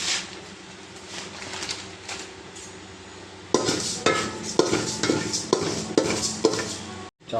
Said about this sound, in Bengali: কড়াই গরম হয়ে গেছে, মুগ ডালটা দিয়ে দিই